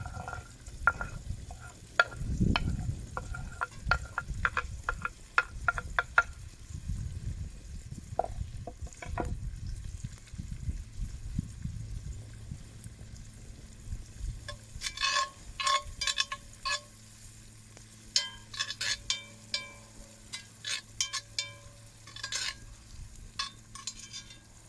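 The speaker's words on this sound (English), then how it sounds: "So now I can just put in my base of my onions, my ginger and my garlic." Onions, ginger and garlic dropped into hot coconut oil in a Dutch oven over a campfire, with clinks and scraping stirs early on, then a steady sizzle with more utensil taps against the pot.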